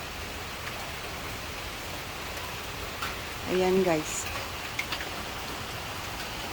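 Steady rain pours onto the rooftop of a house more than 35 years old, a constant broadband hiss that runs through the whole stretch, with someone speaking briefly over it midway.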